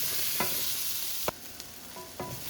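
Cubed potatoes and spaghetti squash for a vegan vegetable curry stirred in a pot, with a few distinct scraping knocks of the spoon over a soft background sizzle.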